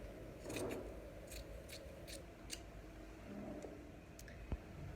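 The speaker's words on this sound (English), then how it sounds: "I'm going to want to give it a little trim so I don't have too much fabric hanging about." Scissors trim fabric on a draped bodice in a few quiet, soft snips with faint rustling of cloth in a hushed room.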